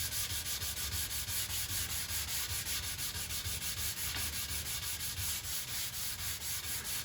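Sandpaper rubs by hand across a wooden picture frame in fast, steady back-and-forth strokes, a close, continuous gritty scratching with no talk.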